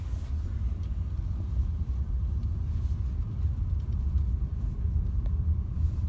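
Low steady engine rumble inside a 2018 Audi A1 Sportback S-Line as it pulls away, a continuous muffled cabin drone without talk.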